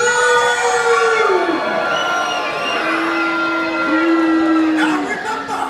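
A pirate dinner show audience cheers and whoops loudly, with sustained voices rising and falling in pitch as a crowd roar fills the room.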